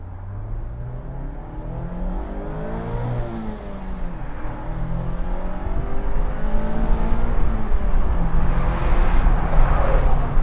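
A Mazda MX-5 convertible's non-turbo engine accelerates steadily, its rising revs climbing in pitch and growing louder over about ten seconds, with no turbo whistle and no talk.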